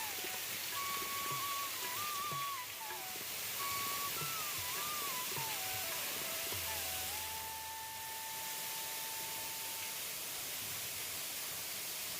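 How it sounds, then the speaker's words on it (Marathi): Rain falling steadily on the ground at Bhaje Caves near Lonavala as a soft, constant hiss, with a faint tonal whine wavering over the downpour. "छान असा पाऊस येत आहे. पावसांच्या सरी जमिनीवरती टिपटिप बरसत आहे."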